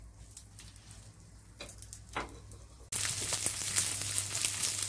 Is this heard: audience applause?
no